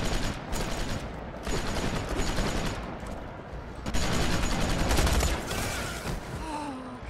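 Bursts of gunshots from Tales from the Borderlands crack in dense volleys, separated by short lulls, loud and close with no talk over them.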